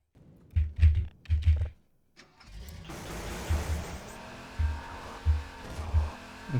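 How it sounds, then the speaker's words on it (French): A car in the video game Half-Life 2 revs in several short bursts, goes briefly quiet, then drives off with a sustained engine drone punctuated by repeated throttle surges. "faut que je fonce avec la voiture comme à chaque fois"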